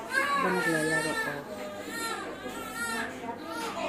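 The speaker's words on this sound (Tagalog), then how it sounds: "Maririnig nyo ang daming umiiyak na bata." Many children cry and play in a crowded clinic waiting area in Malaysia, where babies are weighed and measured, with wavering wails and whimpers rising over busy chatter nearby and adult voices mixed in.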